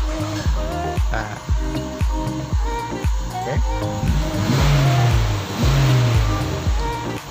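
A long-idle Mazda 6 cranks and fires up, its engine settling into a steady idle with rhythmic low pulses, close by and alone.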